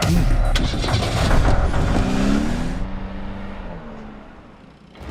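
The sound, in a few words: car being started and driven off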